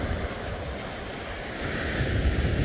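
Steady breeze and rolling surf at an ocean beach on Hutchinson Island on a warm, cloudy evening, a continuous wash of wind and waves with low rumble and no speech.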